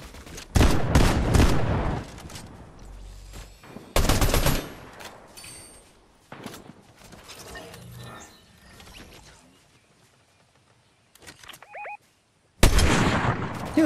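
Gunfire in the video game Fortnite comes in sharp bursts of rapid shots, loud and close, separated by quieter stretches of game noise, with a final loud burst at the end.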